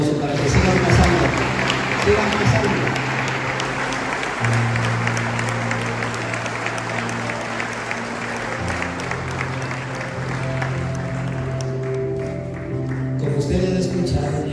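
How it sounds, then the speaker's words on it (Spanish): A church congregation applauds steadily for several seconds, a dense, sustained clatter of many hands with a low hum of crowd voices beneath it. "Vamos a darles otro aplauso para que sigan pasando."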